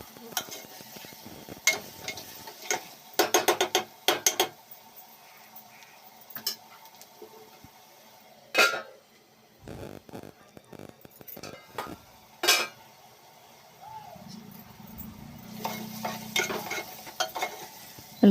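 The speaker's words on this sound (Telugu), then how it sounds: "కొంచెం బాగా వేగాలండి ఉల్లిపాయలు. చూడండి దొరగా వేగుతూ వచ్చినాయి" Onions frying in a pan for mutton curry, a low sizzle broken by scattered clinks and scrapes of a stirring spoon against the metal, with a few brief louder knocks.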